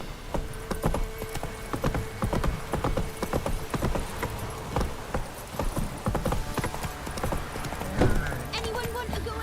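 Hooves of the horse Roach clip-clopping at a trot in The Witcher 3, steady rhythmic footfalls close by, with game ambience behind and some speech around them.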